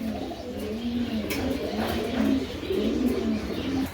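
Racing pigeons, including a cream bar racer hen, coo in a steady, rolling series of low throaty calls close by, with faint chirps and shuffling in the background and no talk.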